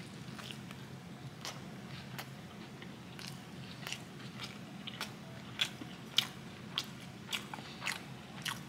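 Someone bites into and chews a taco with crisp, crunchy bites. The crunches come in a steady sequence over quiet room tone and grow louder and more frequent toward the end. Nobody talks.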